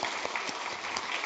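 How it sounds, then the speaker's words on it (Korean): A church congregation at a spring revival service claps together in a steady, dense burst of applause, filling the sanctuary evenly for about a second. "감사하다고 박수 한번 하겠습니다"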